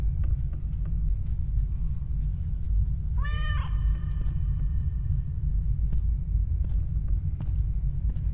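A single cat meow sounds in the indie horror video game Stairway 7, a brief clear call set against a steady low rumble of game ambience, with no one talking.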